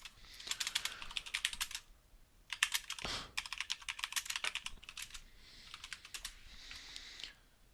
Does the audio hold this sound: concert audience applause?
no